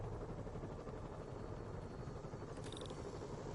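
Helicopter rotor noise in a Spider-Man video game, a faint steady churning wash of blades with a brief higher whine near the end, no voices.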